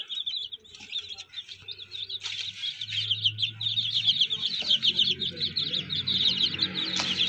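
Rapid high chirping from baby chicks and soft clucking from a hen, continuous and close, with a low rumble of background noise joining partway through.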